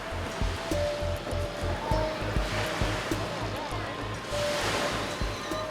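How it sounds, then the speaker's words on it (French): Small waves wash steadily onto a sheltered beach in a little bay on Koh Ong, a soft continuous surf bed with a regular low thumping and faint tones over it. "Sa plage se dessine le long d'une petite baie abritée."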